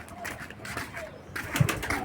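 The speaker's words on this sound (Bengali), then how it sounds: "এইটা হলো সুস্থ কবুতর।" A healthy racing pigeon gives soft, low coos in short bursts, close by, with a person talking around them.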